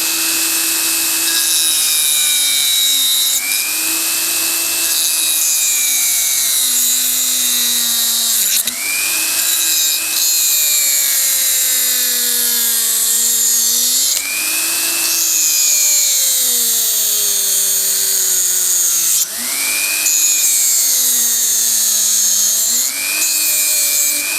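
A Mächtz MMG-280 rotary engraver runs at maximum speed while cutting through a nail, making a loud, steady high-pitched whine that dips in pitch each time the bit bites under load. No one speaks.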